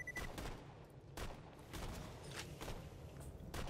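Gunfire in the video game Borderlands 2, a run of irregular bursts and booms with bright cracks repeating across the whole stretch, dense and mid-level, with no talking over it.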